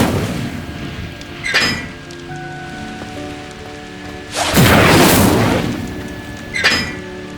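Incendio fire spell cast in Hogwarts Legacy, heard as loud whooshing bursts with a sharp crack near the start, a big roaring blast in the middle and another burst at the end, over a soft sustained tonal background.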